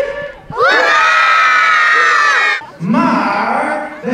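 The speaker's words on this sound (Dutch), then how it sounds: "En zullen we één keer heel hard juichen voor onze eigen koning en zijn verjaardag?" Schoolchildren shout and cheer loudly for the king's birthday at an outdoor King's Games event, one sustained high-pitched burst of many young voices, a brief dip, then a second rising cheer.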